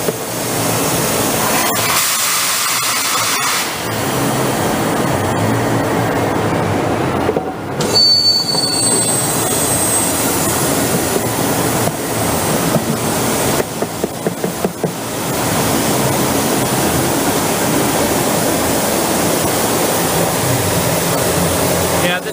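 A CP4 screw press processing cranberry waste runs with a loud, continuous metallic rumble and grinding, steady throughout with brief shifts in texture and occasional squeals.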